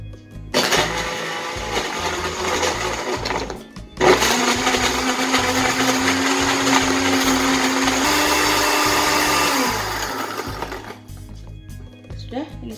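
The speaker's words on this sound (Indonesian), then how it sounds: "Sudah, kita blender." Kitchen blender mixing a chocolate Oreo milkshake with chocolate ice cream: a loud whirring motor runs for a few seconds, stops briefly, then restarts and runs steadily before cutting off.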